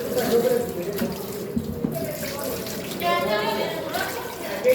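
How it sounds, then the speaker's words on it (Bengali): Grapes are rinsed under a running kitchen tap, with water splashing and gurgling steadily into a sink at close range while someone talks over it. "আমি এই আঙ্গুরগুলো ধুয়ে নিচ্ছি"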